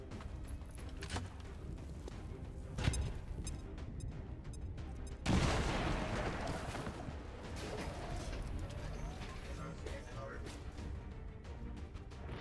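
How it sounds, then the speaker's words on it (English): A grenade detonates in the XCOM 2: War of the Chosen video game, a single sharp broadband blast midway through, heard over steady game ambience with speech in the mix. "Throwing grenade!"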